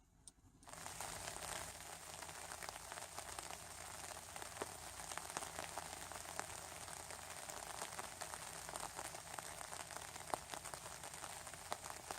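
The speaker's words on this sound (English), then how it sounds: "Don't you just love the sound of rain on your tarp?" Steady rain patters on a taut sheet overhead, a dense, even crackle of drops with a few louder taps, continuous and close for the whole stretch.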